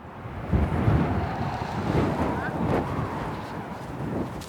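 Strong wind on a Welsh beach in winter buffets the microphone in gusty, roaring bursts, with a wash of surf-like noise beneath and no clear voices.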